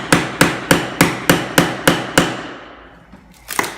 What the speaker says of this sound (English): So you'll put your chisel in with your flat side closest to that track.